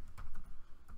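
Keystrokes on a computer keyboard, typed into a web browser, come as a quick run of close, soft clicks over about a second, with no voice.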